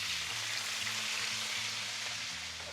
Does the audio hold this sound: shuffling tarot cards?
no